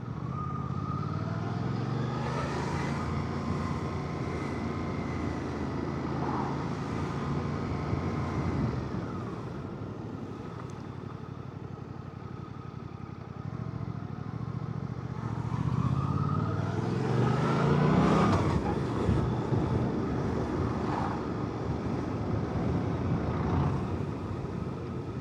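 A Suzuki GSX 8TT motorcycle riding in traffic, its engine droning steadily with rising and falling revs as it accelerates, under constant road and wind roar.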